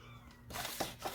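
A short, quiet meow from a cat, heard after a moment of near silence, faint and somewhat distant.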